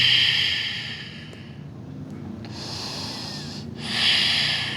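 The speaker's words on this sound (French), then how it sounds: "Respiration Ujjayi." Ujjayi breathing during a yoga practice, two loud rushing, hissing breaths through the nose and throat with a quieter pause between them, heard close and alone.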